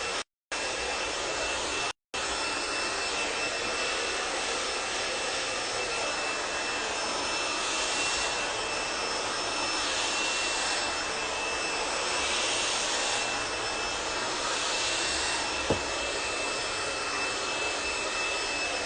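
A blow dryer drying curly hair with a multi-bristle brush runs as a steady, loud, continuous whoosh, with two brief cutouts near the start and then unbroken airflow throughout.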